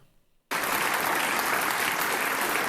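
After a brief quiet moment, a large audience suddenly bursts into loud, sustained clapping that carries on steadily to the end.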